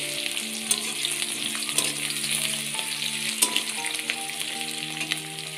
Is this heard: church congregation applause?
no